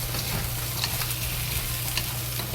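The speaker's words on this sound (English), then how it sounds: "we add fried pork into it and fry it." Fried pork stir-frying in a wok with scallion and ginger, a steady close sizzle with light scraping stirs throughout, no voices.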